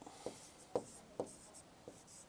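Chalk or marker tapping and scraping on a classroom board in short strokes, about four distinct knocks spread over two seconds, fairly quiet in a room with no one speaking.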